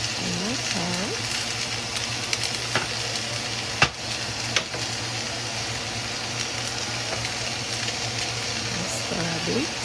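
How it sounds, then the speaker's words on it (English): Cabbage and carrots sizzle and crackle in a hot pan, a steady frying hiss that runs the whole time with occasional stirring clatters and a sharp knock near the middle. Background voice talk may be mixed in. "Here I'm adding my cabbage and my carrots."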